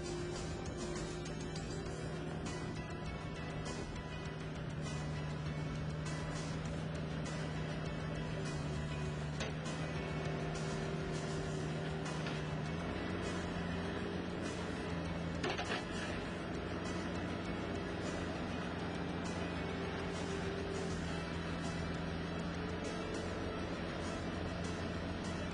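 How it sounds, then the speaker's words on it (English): A boom-mounted backhoe attachment on a skid loader digging foundations, giving a steady, loud hydraulic and engine drone with clanking, ticking mechanical sounds throughout. "move the backhoe boom and cylinder to the right"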